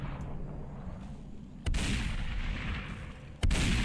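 Gunshots in Superhot, two loud sharp shots spaced about two seconds apart, each a sudden blast with a lingering rumble, close over a quiet low background.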